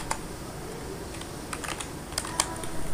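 Quiet, irregular tapping of keys on a computer keyboard, a few clustered clicks over soft background hiss.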